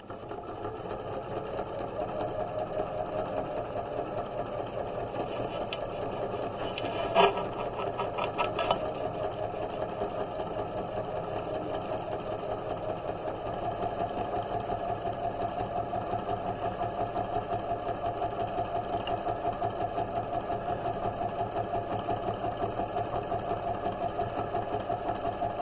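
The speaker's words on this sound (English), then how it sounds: "I'm going to turn so that I can pivot and sew down the side." A sewing machine stitches down the side of a pillow, its steady mechanical whir running continuously at moderate level, with a couple of brief clicks partway through and no talking.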